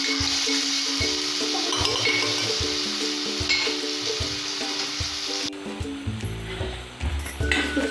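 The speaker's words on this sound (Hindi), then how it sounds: "ये जो पीसे हुए मसाले हैं, इसे हम तेल में डालेंगे" Ground spices sizzle loudly in hot oil for pumpkin-leaf curry, a steady bright crackle with repeated stirring scrapes and soft clinks, close by and continuous throughout.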